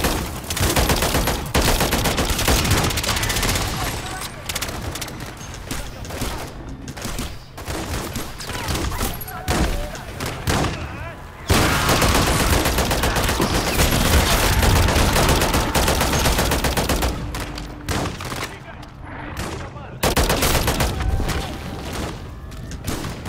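Sustained gunfire in the Call of Duty video game, with dense bursts of rapid shots and booms filling the whole stretch, loud and continuous, with brief lulls and a few thuds.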